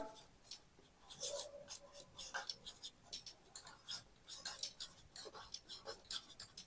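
Pen scratching out maths figures for a rectangle perimeter problem on paper, close and quiet, in short irregular strokes with brief pauses, while a voice talks.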